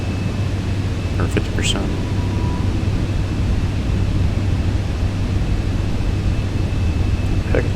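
Steady, loud cockpit noise inside a Cirrus Vision Jet on approach with gear and flaps lowering: a constant broadband roar carries a low engine hum, while a pilot's voice talks briefly over it and faint clicks are heard.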